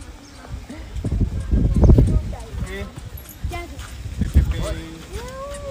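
Horse hooves clip-clop steadily at a zoo while a child rides, the uneven clopping running under nearby voices of adults and children talking.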